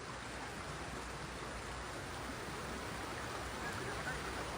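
A river about to be crossed on foot gives a steady, even rush of flowing water, fairly faint and unchanging throughout. Nothing else stands out above the wash of the current.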